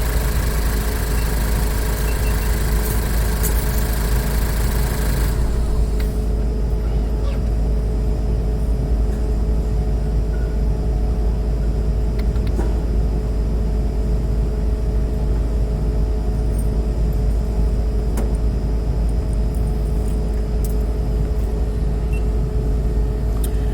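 A Ford Focus engine idles steadily with a low, even hum that stays constant throughout, joined by some brief higher-pitched hiss near the start.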